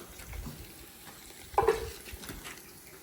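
Ginger garlic paste dropped into a hot pan for chicken biryani, with a low steady sizzle that flares into a brief louder hiss and stirring scrape midway before settling back to a gentle fry.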